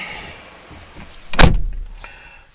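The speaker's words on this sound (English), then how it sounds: "Let's shut the door." A Mercedes-Benz E-Class 250 diesel door shuts with a single solid, close thump, a sharp broadband impact followed by a brief low rumble, alone in a quiet cabin.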